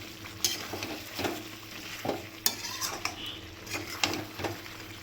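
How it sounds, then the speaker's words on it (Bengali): Potatoes stir-fried with spices in a pan, a low sizzle under repeated scraping and clinking of a spatula against the metal, rhythmic stirring strokes up close. "আলুগুলো দিয়ে ভালো করে এটা কষিয়ে নেব, যাতে আলুর মধ্যে মশলাটা মাখানো হয়ে যায়"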